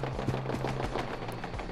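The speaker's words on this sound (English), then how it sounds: "Okay, gunfire! Go to the gunfire!" Rapid bursts of gunfire in the video game 7 Days to Die modded as Fallout 4 crackle in quick succession, a steady automatic rattle against a dense, noisy background.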